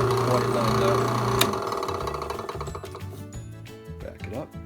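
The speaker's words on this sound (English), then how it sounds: "I'll just hold it with this hand as I turn the drill press on." A drill press starts up and runs while pipe is drilled, a steady motor whine and hum with mechanical rattle that shifts and varies as it runs.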